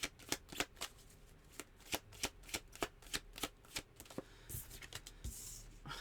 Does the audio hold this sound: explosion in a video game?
no